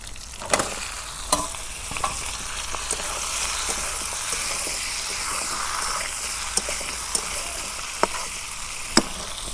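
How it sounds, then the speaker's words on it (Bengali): Bottle gourd (kodu) sizzling and frying in a pan during home cooking for a Ramadan iftar, a steady close hiss scattered with sharp pops and spatters, heard alone with no talk. "এখন আমি কদুলাও রান্না করব।"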